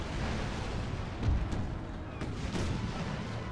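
Ship cannons in Napoleon Total War fire a broadside as a dense, continuous rumble of booming shots, several dull thuds standing out against the steady low roar of naval battle.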